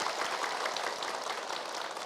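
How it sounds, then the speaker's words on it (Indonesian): A studio audience of women at a morning religious TV show applauds in a steady, dense wash of clapping that holds at an even level for about two seconds. "Boleh tepuk tangan."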